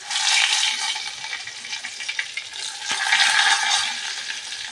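Two bay leaves sizzle and crackle in hot oil in a pan, a bright, close frying hiss that swells, dips, and rises again.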